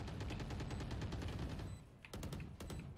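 Bursts of rapid automatic gunfire in a Valorant match, a dense continuous volley that breaks off into a few separate sharp shots near the end, loud and close.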